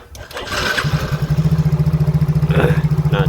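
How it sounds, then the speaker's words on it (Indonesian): A Yamaha Mio J scooter engine cranks briefly, catches, and settles into a close, loud, steady idle with an even pulsing throb. "kita coba nyalakan mesin lagi ya"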